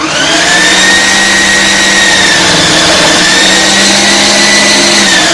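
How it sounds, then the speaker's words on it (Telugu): A Preethi mixer grinder blends grated pumpkin for pumpkin payasam, a loud continuous high whirring motor drone with a steady pitch, running close and alone for the whole stretch. "ఇంక ఇక్కడైతే నేను మిక్సీ జార్లో వేసి పట్టేస్తున్నాను"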